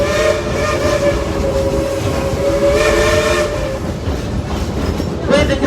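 Dollywood Express steam locomotive Engine 70, a World War II veteran engine running through the Smoky Mountains, chuffs loudly and steadily with a sustained steam whistle sounding over the rumble of rolling railroad cars.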